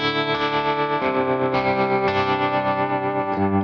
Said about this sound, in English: So this is what the trem sounds like.